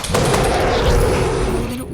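A sniper rifle shot in a video game, apparently Franklin-era GTA-style play, rings out as a loud, dense blast that fills the whole stretch with rumbling reverberation before cutting off abruptly.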